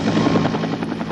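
A helicopter in a 1987 Finnish radio drama comes in to land on a road, its rotor chopping loudly and rapidly in a brief burst with no voices.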